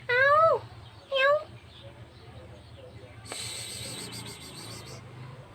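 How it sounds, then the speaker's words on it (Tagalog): A few cats meow and hiss, with a couple of loud, rising-falling cries up close near the start, then a sustained high whine under continuous low background noise. "Ang cute nila oh. Mga pusa."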